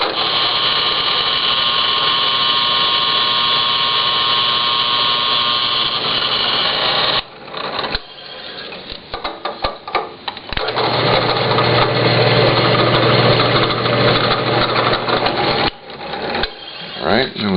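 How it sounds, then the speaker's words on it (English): A drill press bores into a Lexan chassis for an RC rock crawler. A steady, loud machine drone runs for about seven seconds, then turns choppy and uneven as the bit cuts, then steadies again. "I go to my drill press and I drill it"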